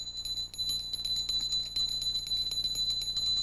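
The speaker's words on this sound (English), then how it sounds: "One further thing, a little bell. Listen to the pitch." A small bell, about to be frozen in liquid nitrogen for a science demonstration, rings with a steady, bright high tone that is struck repeatedly and sustains throughout, fairly close and alone.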